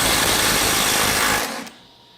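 A Snap-on 18V cordless ratchet strains against a bolt torqued to 300 foot-pounds, giving a loud, steady, high motor whine close by. It cuts off sharply after about a second and a half and leaves quiet.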